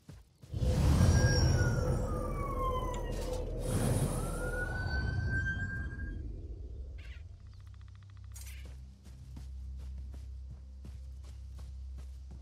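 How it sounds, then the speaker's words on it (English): An emergency vehicle siren outside wails in slow rising and falling sweeps for several seconds, moderately faint against a low steady hum, then fades and leaves only the background drone. "Sorry if you can hear the siren."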